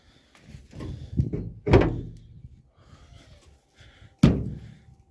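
A van door is handled during body repair work in a workshop, giving several thunks and one sharp slam-like knock, near and fairly loud amid quiet shuffling; someone speaks briefly.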